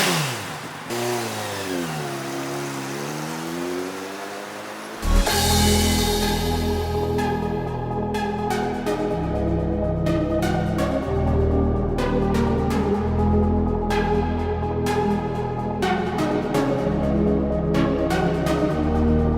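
An Aprilia RSV4 1100 Factory motorcycle engine in Dubai rises and falls in pitch as it revs, then roars loudly up close through repeated accelerations and gear changes while riding, its throttle surging and dropping in waves.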